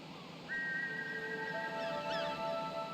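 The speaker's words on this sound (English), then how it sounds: "You put the shiny silver whistle to your lips and forcefully blow into it, producing a loud tweet." A shiny silver whistle in King's Quest IV gives a sustained, bright tweet, joined by a second overlapping pitch and rising chirps, over a hiss of background noise.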